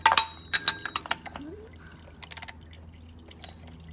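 Engine oil drips from a removed car oil filter into a pan in a series of small, sharp plinks and taps, clustered at the start and again midway, faint and close with quiet gaps between.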